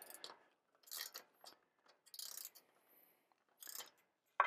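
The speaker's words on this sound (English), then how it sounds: "This is where your little ratcheting sockets, like what I have here, comes in great play." A small ratcheting socket wrench clicks in quick bursts while backing a little bolt out of a rusty Electra 8 Ball being restored, close and crisp, with short pauses between strokes and no talking.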